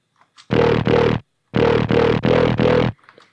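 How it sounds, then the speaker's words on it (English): A loud synth bass note pulses through a mid-frequency distortion module, two gritty hits, a pause, then four more in an even rhythm, alone without talk. "I basically have just a mid-frequency distortion going on."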